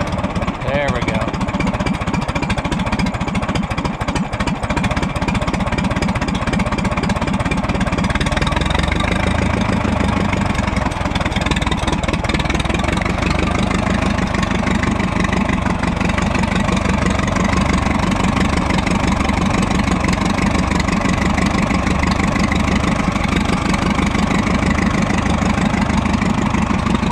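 An Oliver 60 tractor engine runs loud and close, settling into a steady, knocking idle with a rough, rhythmic chug that continues without a break throughout.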